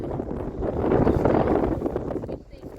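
Strong wind blows outdoors on a sandy stretch, buffeting the microphone in a loud, rough roar that swells and then eases near the end.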